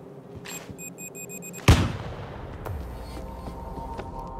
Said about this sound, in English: A little C4 would crack that open.